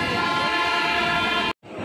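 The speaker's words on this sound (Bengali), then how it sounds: "চল, এই ট্রেনটা থেকে আমরা নামলাম" A train at a station near Naihati gives off a loud, steady tonal drone that holds without a break and then cuts off abruptly.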